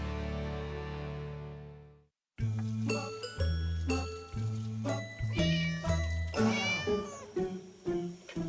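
A pet cat meows repeatedly, close and fairly loud, its cries mixing with bright jingling, tinkling tones; there is a brief silent gap early on, then steady calls.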